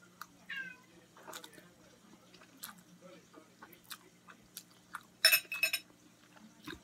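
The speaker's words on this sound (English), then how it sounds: "That completely just meowed." A cat meows a few short times indoors, faint against a quiet room, mixed in with chewing and eating sounds and bursts of a person's talk.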